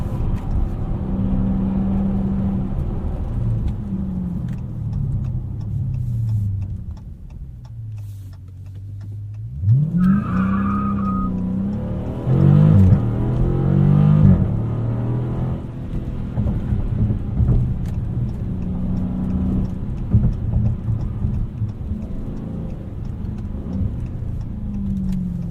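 Widebody 2019 Dodge Challenger R/T Scat Pack driven fast at night, its engine a loud, steady roar with harmonic drones that dip and then surge back, plus a brief high squeal around the middle; no talking.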